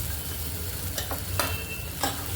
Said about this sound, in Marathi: नंतर आपण ग्रेव्हीची फोडणी टाकणार आहे.